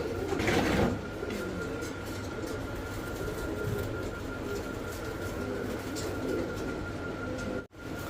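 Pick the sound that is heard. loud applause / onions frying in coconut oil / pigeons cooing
pigeons cooing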